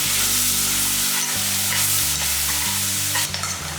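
Onion and tomato sauté in a pan, salted and dusted with turmeric, giving a steady loud sizzle with stirring scrapes throughout, close up and without any voice.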